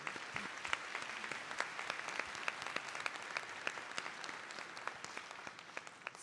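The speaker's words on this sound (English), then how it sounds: "please give the last round of applause for all the" Sustained applause from a conference audience in a large plenary hall as a high-level leaders panel on generative AI closes, dense steady clapping throughout with faint voices underneath.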